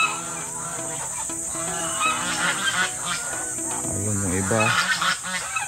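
Honking geese, ganders among them, at a goose market in the Philippines: a loud, continuous clamour of overlapping nasal honks from a close flock, with a person talking over it.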